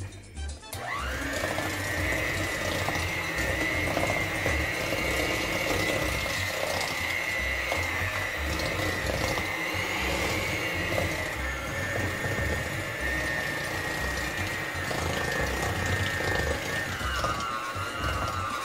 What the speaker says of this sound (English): I'm gonna add a portion of the flour, not all of it, as I'm using a hand mixer.